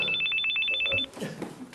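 A telephone rings with a rapid electronic trill of quick repeated beeps lasting about a second, loud and close, followed by a short stretch of quieter room noise.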